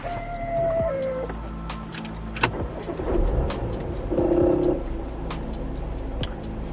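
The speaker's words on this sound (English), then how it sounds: "what I'm going to do now is I'm going to fire the car up" Porsche Macan S Diesel being started with the key: a short starter crank catches into a diesel idle that settles into a steady low rumble, with a brief rev partway through, close and moderately loud.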